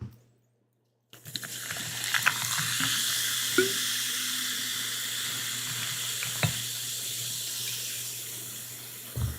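A drink is poured into a glass with ice, a continuous close fizzing pour lasting several seconds after a brief silence, with a couple of small clinks.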